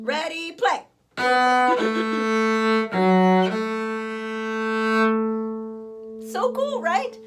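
A cello plays four sustained bowed notes in a row, the last a long whole note that rings out and fades, following a brief spoken count-in, with speech returning at the end.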